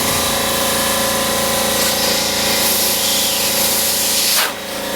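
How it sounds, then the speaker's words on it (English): Compressed air hisses steadily and loudly into the fuel tank of a Ski-Doo Formula SL snowmobile with a Rotax 503 engine, a continuous close rush that cuts off just before the end. "is to put an air compressor in the tank and just add a little pressure."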